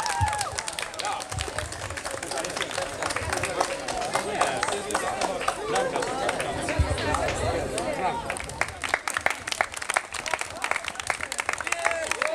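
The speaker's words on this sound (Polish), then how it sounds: "teraz brawa dla chłopaków." Applause and cheering from a crowd at an outdoor family picnic, with scattered clapping over babble and chatter of people nearby and voices talking throughout.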